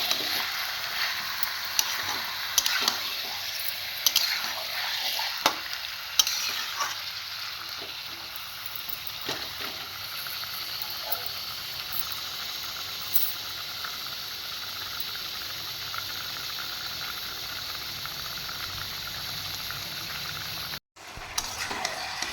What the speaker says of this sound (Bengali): মাংসটা আমি পেঁয়াজের সাথে ভালোভাবে 2-4 মিনিট কষিয়ে নেব।